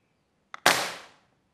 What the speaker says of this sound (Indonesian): Tes tembak dulu.